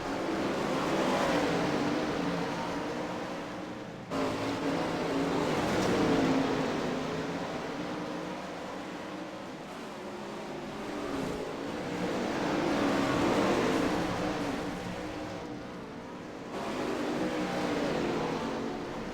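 410 winged sprint cars race around Kokomo, a continuous loud engine roar that swells and fades in waves as the pack circles the track. It runs for about nineteen seconds, heard at some distance, with no voices over it.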